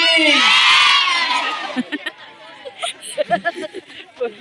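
A crowd at a devotional gathering for Lord Ram shouts a loud, unified chant of praise for about a second and a half, then breaks into scattered nearby voices and chatter.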